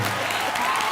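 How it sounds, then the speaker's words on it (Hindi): Brief burst of studio audience applause on a TV comedy show, a dense wash of clapping throughout one second. "जोरदार तालियां"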